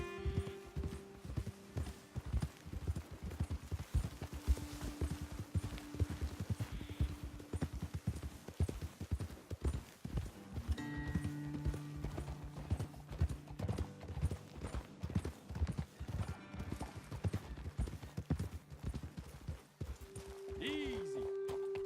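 Horses walking along a trail in Red Dead Redemption 2, hooves clip-clopping in a steady, close rhythm for the whole stretch, with occasional voices and tonal game sounds layered over them.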